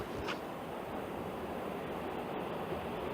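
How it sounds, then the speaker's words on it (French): Ocean waves wash in a steady, unbroken roar of surf, loud and close, mixed with some wind noise and no voices. "Avec le bruit des vagues."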